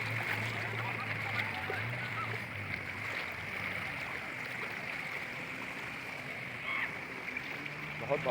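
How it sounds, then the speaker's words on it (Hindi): Fast, swollen river current after heavy rain, a steady broadband rush of floodwater that runs without a break, with faint voices in the background. "बहुत बहाव है नदी का"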